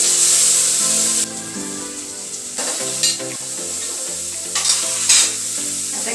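Tomatoes added to fried onions in a pan for khichdi, sizzling steadily and stirred with a few sharper scrapes, all under continuous background music.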